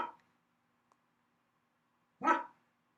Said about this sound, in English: Those barks are going to stay in the lecture.